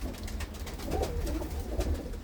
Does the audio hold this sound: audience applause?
no